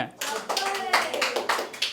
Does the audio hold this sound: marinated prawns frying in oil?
no